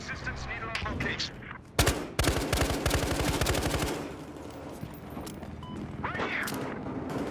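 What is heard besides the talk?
gunfire from the video game Battlefield Hardline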